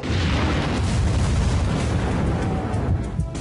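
The rear pressure bulkhead of the JAL 123 aircraft cabin bursts as a loud, sustained roar with a broadband rushing blast. It fills the whole moment and tapers only slightly at the end.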